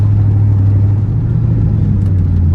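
Ford Mustang with a 4.6 engine driving, a steady low engine drone and road rumble heard from inside the car, constant and fairly loud with no voices.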